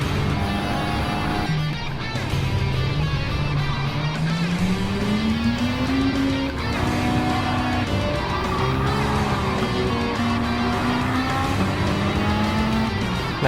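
A self-driving AI at the controls of a Porsche Taycan Turbo races hard, its electric drivetrain whining in a steady rising and falling pitch with tire noise, loud and close, the sound continuous.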